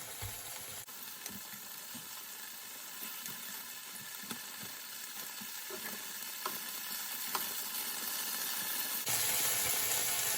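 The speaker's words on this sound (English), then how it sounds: "here you have my chicken cooking away nicely" Chicken fries steadily in a pot, giving a continuous dense sizzle with scattered pops and crackles that grows slightly louder toward the end, heard close with no talking.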